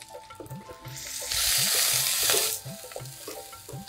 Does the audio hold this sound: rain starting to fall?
no